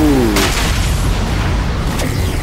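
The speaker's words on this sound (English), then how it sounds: "Loud explosion!" A loud, booming explosion in Horizon Zero Dawn: The Frozen Wilds with a deep rumbling tail that fills the space, followed by lingering low roar and faint ringing tones.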